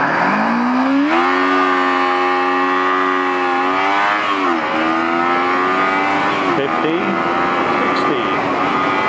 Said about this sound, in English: Hey, here comes a Porsche.